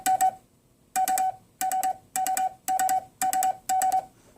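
Rapid clusters of Morse code dots sent on a homemade cootie sideswiper key, each burst of about three or four quick tone pulses separated by short gaps, clear and alone.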